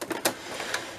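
Sewing machine stitching a paper junk journal embellishment, a brief rapid mechanical chatter with a few sharper clicks, close and moderately loud.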